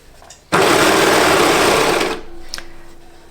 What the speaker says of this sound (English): now I can just sew this together on my serger